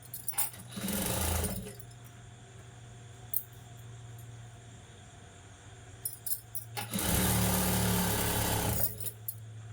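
A sewing machine stitches a puff sleeve seam in two loud runs, one early and a longer one near the end, with a steady low hum and quiet handling sounds between them.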